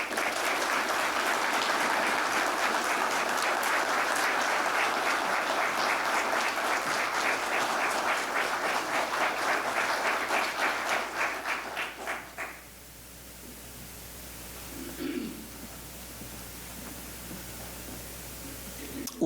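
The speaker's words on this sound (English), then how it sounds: "Could we please have a round of applause for Leading Seaman Cutting?" Sustained applause at a museum tribute honouring local veterans, dense even clapping for about twelve seconds that breaks off abruptly into a near-quiet room with a brief faint sound afterward.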